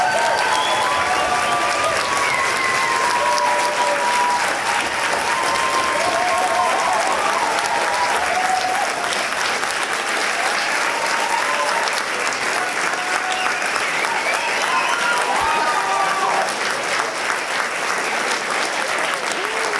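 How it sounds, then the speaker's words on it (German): Sustained audience applause for a poetry slam performer at a university slam event, a dense, steady wash of many hands clapping, loud and continuous with no voices over it. "Einmal Applaus bitte für Stefan"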